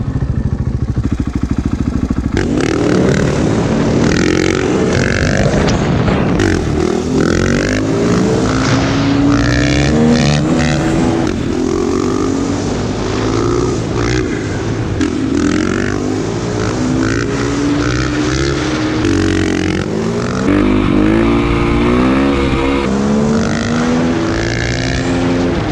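A motorcycle fitted with a Wheelie Guard system doing wheelies, its engine loud and close, revving up and down in repeated surges with shifting pitch, sustained throughout with no talk.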